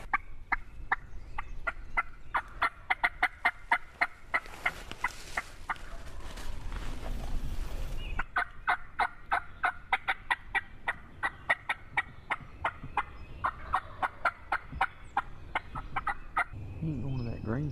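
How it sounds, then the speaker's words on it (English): Wild turkeys gobble in the field, with rapid repeated gobbles in rhythmic bursts that carry across open ground, one stretch overlapping a rush of noise before the calls resume. "when they flew down, we tried to call to them, and they gobbled and gobbled"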